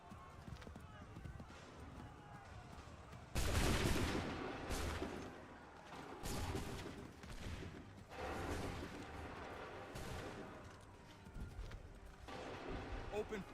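A musket volley in the video game Assassin's Creed III erupts suddenly and loudly, then gives way to a run of scattered cracking shots amid battle noise, with voices shouting over it.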